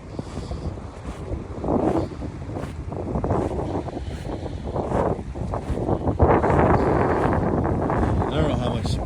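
Strong wind buffets the microphone on a Cape Cod beach during a February winter snowstorm, gusting in loud roaring surges over the wash of surf near the water's edge, with a voice briefly audible beneath.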